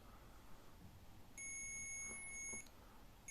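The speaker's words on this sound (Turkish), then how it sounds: "iletim için yani buzzer ötecektir" A buzzer on an electronics breadboard sounds one steady electronic tone lasting just over a second, then cuts off; it is fairly faint over background hiss, with a brief restart at the very end.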